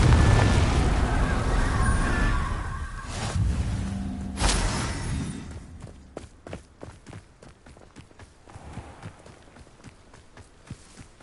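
Confringo blasting spell from Hogwarts Legacy erupts in heavy booming bursts over dense combat noise, then the blasts fade and a run of quick, sharp footsteps follows.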